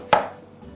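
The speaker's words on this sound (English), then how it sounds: "so we're going to dice this potato up, sweet potato" A single crisp knife chop through a sweet potato against a cutting board, one sharp thunk followed by quiet.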